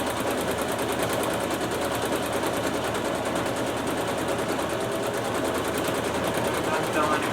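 A sewing machine stitches a surgical mask, running steadily at close range for several seconds in a continuous rapid whirring chatter with no pauses.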